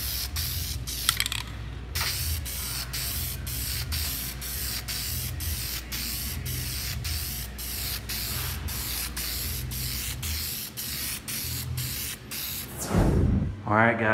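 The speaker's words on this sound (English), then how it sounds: "I just got done spraying the last coat about 10 minutes ago." A spray gun lays a tint coat onto car taillights in a controlled spray booth, giving repeated bursts of loud, close hissing in a steady rhythm. A voice can be heard faintly now and then.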